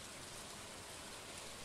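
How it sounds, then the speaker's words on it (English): Rain falls steadily in Stardew Valley, a soft continuous patter of drops with no voices, holding an even level throughout. "oh, it's a rainy day"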